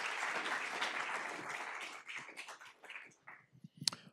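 Audience applause at a school board meeting, a steady wash of clapping that thins out and trails off into scattered claps and a few last isolated ones near the end.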